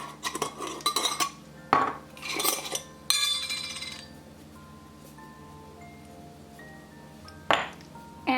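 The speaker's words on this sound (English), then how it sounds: "To that, I'm going to add a few semi-sweet chocolate chips." Semi-sweet chocolate chips dropped into hot cocoa bomb molds over hot cocoa mix, giving clustered clinks and light rattles in bursts, then a quieter stretch, then another short clink near the end.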